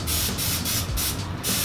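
Pam cooking spray being sprayed into a loaf pan, several close, forceful hissing bursts in quick succession, each separated by brief gaps.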